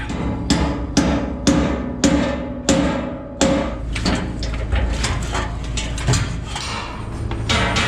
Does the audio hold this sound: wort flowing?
no